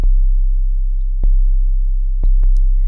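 A single oscillator of the Reason Complex-1 modular synthesizer sounding a steady, pure low tone, with three soft clicks as it retriggers, loud and alone.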